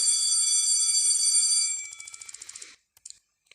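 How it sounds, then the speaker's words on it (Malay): An electronic school bell in the Roblox game Forgotten Wounds rings steadily for nearly two seconds, then breaks into rapid pulsing strikes that fade out, followed by a couple of faint clicks. "Loceng dah bunyi."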